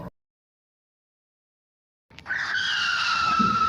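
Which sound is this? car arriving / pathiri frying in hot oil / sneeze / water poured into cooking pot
car arriving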